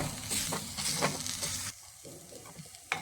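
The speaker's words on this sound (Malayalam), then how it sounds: "കുറച്ച് സമയം ഇതൊന്ന് ഇളക്കി കൊടുക്കാം." Mango and tomato rasam is stirred in a pot, giving soft repeated scraping and sloshing strokes over a gentle simmering sizzle, close up and fairly quiet, easing off partway through.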